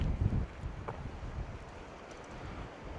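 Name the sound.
wind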